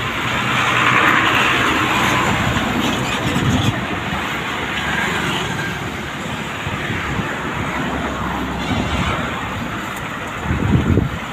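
Steady road traffic flows past a roadside in Uttarakhand, a continuous roar of passing vehicles with swelling whooshes and a rumbling heavy vehicle near the end, heard close and loud with wind mixed in.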